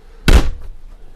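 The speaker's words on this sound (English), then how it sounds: "A nice heavy solid door." A heavy solid door on a 2017 LMC 680G A-class motorhome swung shut with one loud, close thud and a short rattling decay.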